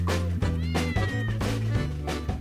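A domestic cat meows loudly and close, giving a string of drawn-out, whining meows in quick succession with no pauses between them.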